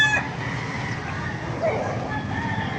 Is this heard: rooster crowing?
yes